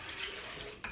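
Hot water being poured into a stand mixer bowl for bread dough, a brief steady splashing rush with a light clink near the end.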